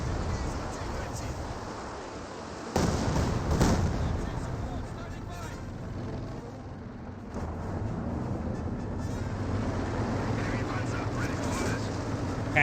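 A barrage of fragmentation bombs from the video game Company of Heroes 2: a loud, rumbling wash of explosions that swells sharply partway through and stays dense and heavy. A voice talks over it.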